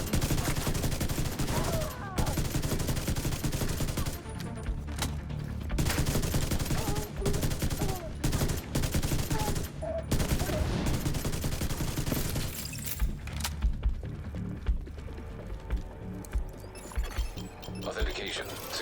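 Sustained bursts of automatic gunfire from a weapon in the shooter game Division 2, loud and dense through most of the stretch, with a voice talking over it and the firing thinning toward the end.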